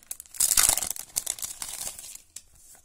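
Plastic packaging around a pack of sticker sheets crinkles and tears open in quick, close bursts, loudest early on and then thinning to a few scattered rustles.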